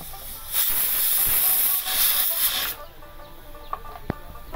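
Hot oil sizzling and hissing loudly in a heated pot, ready for frying onions for chicken biryani, steady and close for about two seconds before dropping to a quieter crackle with a few sharp pops.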